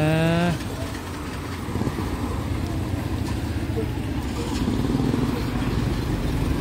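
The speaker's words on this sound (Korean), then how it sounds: "부모님이 와서 데려가려고 오토바이를 딱 대기하고 있네요." Motorcycles idling in front of an elementary school in Luang Prabang, Laos, a steady low engine rumble with traffic passing, and someone talking over it throughout.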